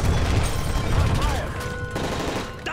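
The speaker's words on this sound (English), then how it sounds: "That's gunfire!" Gunfire from the Call of Duty Modern Warfare 3 video game during a plane hijacking scene on PS3, a dense, loud rattle of shots under shouting voices and game sound throughout.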